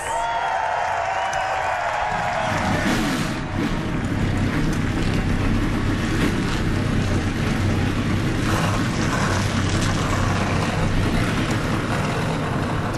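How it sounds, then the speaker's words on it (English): NASCAR stock car engines fire up together at Pocono, a dense, loud roar that swells after a couple of seconds and holds steady over crowd noise. "Drivers, start your engines."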